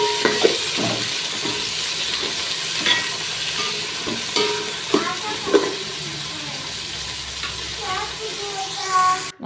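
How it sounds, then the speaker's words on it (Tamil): Coriander and mint leaves sauté in a pan while cooking coconut rice, with soft frying sizzle and intermittent spoon stirring and scraping clicks, moderately close. "அதையும் சேர்த்து நல்லா வதக்கிக்கோங்க."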